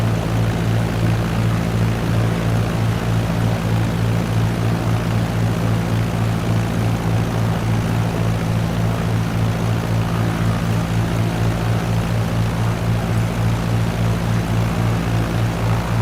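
A propeller airplane flying in Microsoft Flight Simulator at about 65 knots, a steady loud engine drone with a strong low hum that holds constant and alone throughout.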